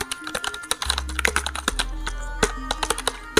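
Typing on an HP wireless laptop-style keyboard, a run of crisp individual key clicks at a slow, uneven pace with a few heavier thocks from the space or enter key, close and clear with no talking.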